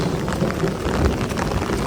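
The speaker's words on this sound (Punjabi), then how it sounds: "ਮੀਂਹ ਦੁਆਰੇ ਤੇਜ਼ ਹੋ ਗਿਆ" Heavy rain pours steadily in a Punjabi village, a dense, continuous roar of drops close to the microphone with a low rumble beneath, loud and unbroken throughout.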